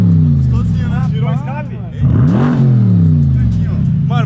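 A Yamaha XJ6 motorcycle, damaged in an accident in the Atacama, revs up close by in two or three rising and falling bursts over a steady engine note, with a brief dip between them.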